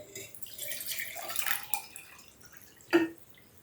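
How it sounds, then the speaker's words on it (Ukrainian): Water trickles quietly into a container of orchid treatment solution, a soft pour ending in a brief, louder splash near the end. "доливаю до цього розчину водичку, щоб було пів літри"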